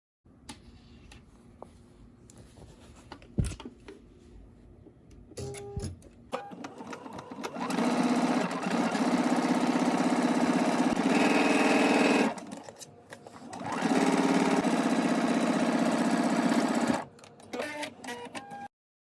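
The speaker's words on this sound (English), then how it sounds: "Now let's go to the sewing machine and stitch these together." A sewing machine stitches front bands together in two long, loud, steady runs separated by a short pause, with rustling and clicks of handling before and after.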